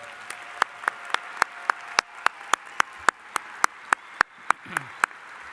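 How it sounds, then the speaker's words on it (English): Applause for General Hale at a university commencement ceremony, with a dense bed of clapping and sharp individual claps repeating at an even rhythm, moderately distant in a large venue. "How about one more big round of applause for General Hale?"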